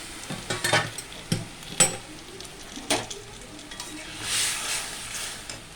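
Whole spices dropped as a tempering into hot oil crackle and sizzle, with several sharp scraping or tapping strokes of a spoon against the pan and a swell of frying hiss toward the end.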